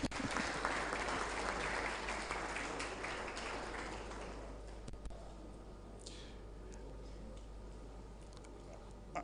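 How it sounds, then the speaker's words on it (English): A lecture audience at a university distinguished lecture claps, dense applause strong for about five seconds and then thinning to scattered claps that fade, heard from within the hall. "And let us clap for that."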